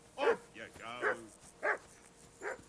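A dog in medieval Bohemia in Kingdom Come: Deliverance II gives a handful of sharp, separate barks and yips spaced across the moment, fairly close and moderately loud.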